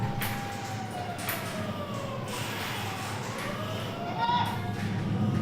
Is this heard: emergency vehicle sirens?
yes